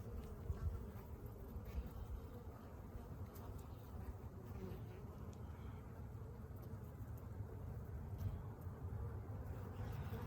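A cluster of honeybees on a hive box lid drones in a steady, close, continuous buzz that does not let up, with no voices.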